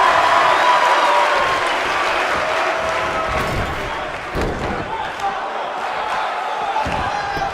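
Arena crowd in the WWE 2K19 wrestling video game, a steady roar of cheering and applause during a women's six-person tag match, with a commentator talking over it and occasional thuds of impacts.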